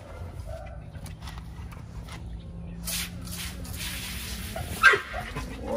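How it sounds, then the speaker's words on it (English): XL Pitbull dogs during a wash give brief whimpers and barks, moderately near, over running water and background noise, with one sharper yelp near the end. "I want to touch these dogs, man."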